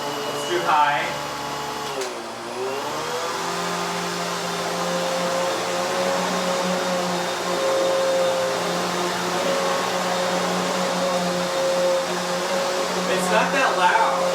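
Hoover HushTone 15 commercial vacuum cleaner switched up to high, its motor dipping then rising into a louder steady whine that holds close, with brief talk at the start and end.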